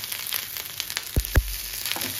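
Breakfast snack being tempered in hot oil with mustard seeds, sesame and red chilli, giving a steady sizzle with a few sharp pops and spatters near the middle.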